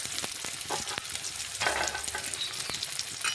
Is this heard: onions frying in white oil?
yes